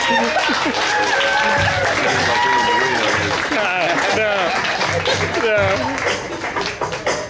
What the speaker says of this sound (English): Alex Stokes, give him another round of applause.